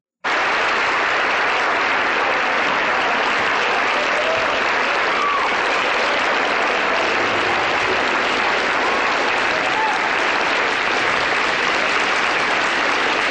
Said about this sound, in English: That's a thunderous round of applause for these kids